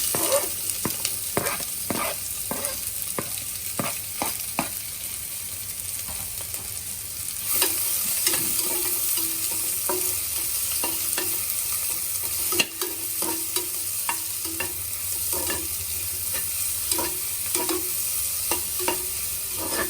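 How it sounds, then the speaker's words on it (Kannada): Thinly chopped onions frying in a pan with cloves and cardamom for rajma pulao, a constant hiss of sizzling oil broken by repeated sharp scrapes and taps of a stirring spoon. "ಈರುಳ್ಳಿ ಚೆನ್ನಾಗಿ ಫ್ರೈ ಆಗಲಿ."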